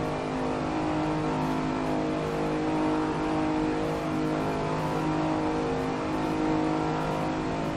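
A car on a Nurburgring lap pulls hard in 5th gear, its engine holding a steady, loud, rising drone from inside the cabin with wind and road roar throughout.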